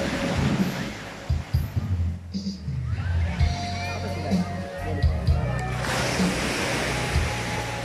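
Sea waves wash onto a beach in a continuous surging roar, loud and close, while people talk over the surf.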